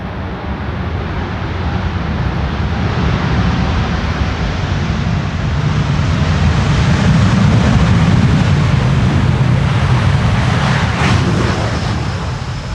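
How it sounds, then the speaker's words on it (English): A Boeing 787 Dreamliner lands on the Polderbaan 18R runway at Amsterdam Schiphol in a crosswind, a low rumbling roar building as the thrust reversers engage, then easing, with no talk. "Nice that the Dreamliner uses the reversers a little."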